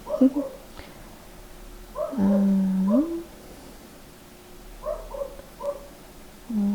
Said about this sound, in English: Okay, let's wait until the dog is barking.